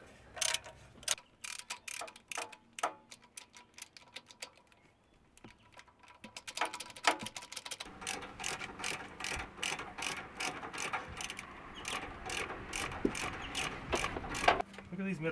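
A ratchet loosens the head bolts on an engine during a blown head gasket repair: rapid runs of sharp clicking come in bursts, with brief pauses and some fainter mechanical rattling between them.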